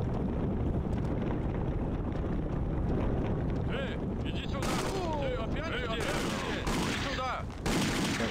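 Gunfire in the video game Indiana Jones and the Infernal Machine, sharp shots popping over a loud, busy wash of ambient noise, with a voice talking through it.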